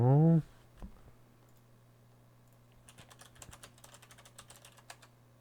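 Typing on a computer keyboard while playing The X Files Game on Windows: a run of quick, light key clicks in an uneven rhythm, fairly faint, following a brief burst of talk at the start.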